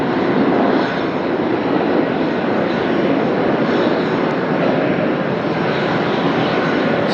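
A Spirit Airlines jet touches down on runway 1 in a gusty Las Vegas crosswind, its engines giving a loud, steady roar with broad rushing noise that holds for the whole stretch without pause.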